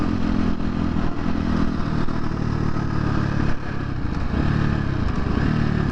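A new 2023 KTM 250 XC-F dirt bike rides on the street, its engine buzzing loud and close at steady high revs with a brief dip in throttle midway, wind and road noise mixed in.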